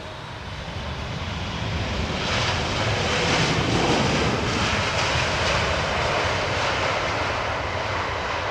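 An Airbus A350 airliner in all-white oneworld livery arriving on runway 27R at London Heathrow, its engine roar swelling and holding steady as it passes close and loud, with no voices over it.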